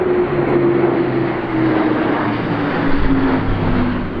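An aircraft passes overhead near Dinefwr Castle, a continuous droning engine hum with a steady low tone that swells slightly around the middle, heard from the castle grounds without talk.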